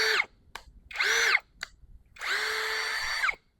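An APR cordless impact drill boring into a paving block, three loud close whining bursts, two short and a longer steady run, with brief pauses between.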